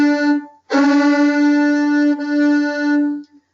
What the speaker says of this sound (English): a drone is basically where you play both 4th finger and open at the same time